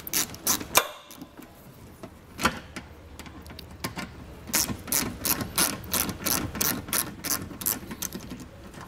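A ratchet backs out 7-millimeter screws from the rear fascia of a 2021 vehicle during a trailer hitch install, giving rapid close clicking bursts in repeated runs with brief pauses between them.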